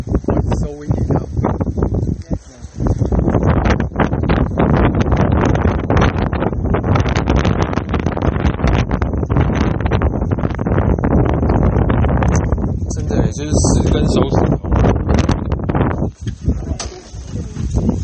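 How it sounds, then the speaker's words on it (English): Strong gusts at a vineyard batter the microphone with loud, continuous rumbling wind noise that barely lets up, with faint birds chirping in the background. "It's so windy now."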